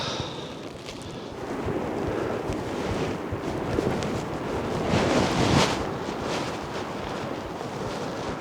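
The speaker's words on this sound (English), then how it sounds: "It's super windy." Strong winter wind roars and gusts across an exposed Colorado mountain backcountry campsite, buffeting close to the microphone with a rushing, uneven swell that peaks midway, and no one speaks.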